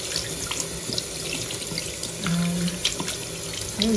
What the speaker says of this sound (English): Throw some water over these bad babies.